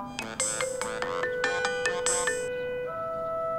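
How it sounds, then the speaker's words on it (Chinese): A phone ringtone plays a bright electronic melody of several rising and falling tones, close and clear, with no talking over it. "你接个电话吧。"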